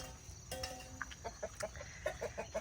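Chickens cluck in a short run of soft, repeated notes, fairly close, with faint background noise and no talking.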